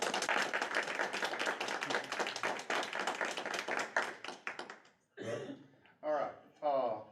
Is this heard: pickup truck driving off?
no